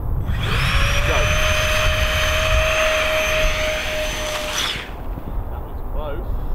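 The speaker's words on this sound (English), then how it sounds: "I'll go up to full throttle and then shout go" Jet engines of a Boeing 747 roaring at full throttle during its takeoff run, a loud sustained whine and rumble with a steady high tone that holds for several seconds, then cuts off sharply.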